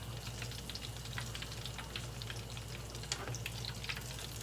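Homemade egg rolls fry in hot oil, browning as they cook, with a steady close sizzle and scattered bubbling pops, alone without talking.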